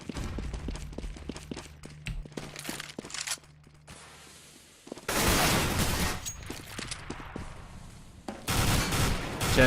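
CZ75 pistol gunfire in a CS:GO online qualifier match: sharp shots crack out in a quick burst, then louder, dense bursts of firing follow near the end, up close and with no talk.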